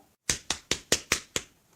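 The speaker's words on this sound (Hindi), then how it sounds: "ताली कहाँ बजा रहे तुम?" Six quick sharp claps in an even rhythm, close and crisp, from a cartoon courtroom scene, standing alone with no talking.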